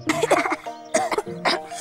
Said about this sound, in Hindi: खांसी खांसी निकल जाती है।